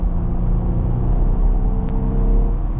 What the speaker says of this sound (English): Hear that V6.